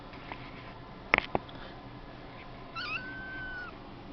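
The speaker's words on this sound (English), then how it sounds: "He's meowing." A young kitten playing with a feather toy ball gives a faint, drawn-out meow near the end, preceded by a couple of soft taps and rustles in a quiet room.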